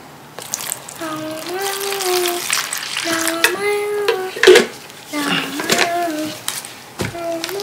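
Water pours and splashes steadily into a container, with a voice talking over it for most of the clip.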